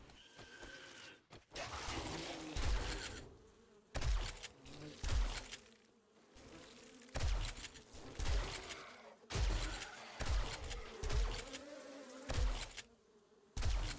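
Bees buzzing in the video game 7 Days to Die, faint droning buzz broken by repeated sharp bursts of gunfire in irregular clusters, with brief quiet gaps between them.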